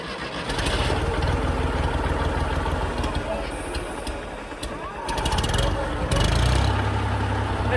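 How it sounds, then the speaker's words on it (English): An old tractor engine runs without its muffler, a loud, rough, close mechanical racket that dips briefly and then surges again, with a deep low rumble settling in near the end and a voice heard over it. "this thing makes quite the unholy racket if the muffler's not on."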